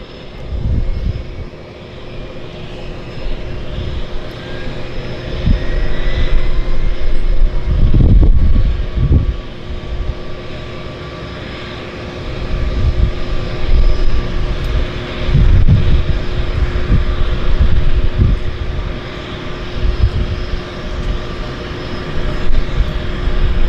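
A Harbour Air seaplane taking off from Vancouver's downtown harbour, its propeller engine a loud continuous drone that swells in surges as it powers up, heard alone without talk.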